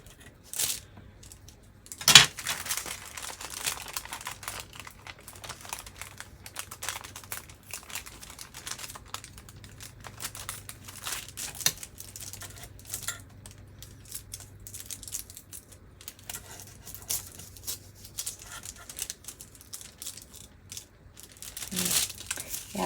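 Homemade napkin faux rice paper is slowly peeled off wax paper, giving quiet, scattered crinkles, crackles and soft tearing ticks, with a couple of sharper snaps and no one speaking.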